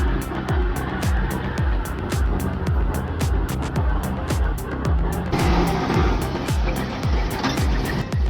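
A timber transport truck working through a turn on a steep hilly road, with a continuous heavy rumble and rapid repeating low thumps throughout and a broad rushing noise that grows a little louder toward the end.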